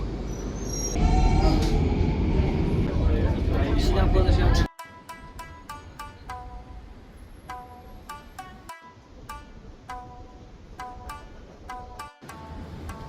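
A Singapore subway station rumbles with a loud arriving train at first, then settles into station ambience with repeated chiming tones and people talking over it.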